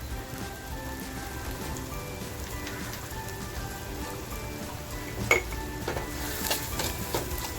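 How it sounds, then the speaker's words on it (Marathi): Tomatoes frying in a pan with salt for Ravas fish masala, a steady soft sizzle and crackle throughout, with a brief utensil clink near the end. "आपल्याला टॅमॅटोसुद्धा असा मस्त फ्राय करून घ्यायचं आहे"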